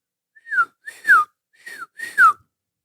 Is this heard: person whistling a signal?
yes